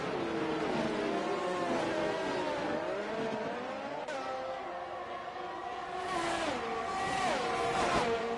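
Formula 1 race cars roar through a racing video game round at Belgium, engines whining loudly and shifting pitch as they brake and downshift into the chicane, a continuous layered snarl of several cars.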